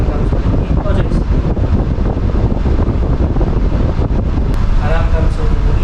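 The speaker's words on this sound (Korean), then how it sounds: "고프로는 보네이도와 약 1m 거리에 두고 비교 테스트를 해보겠습니다" Vornado fan set to its strongest level blows on a GoPro about a meter away with wind reduction off, producing a loud, steady rumbling roar of wind buffeting the microphone with no letup.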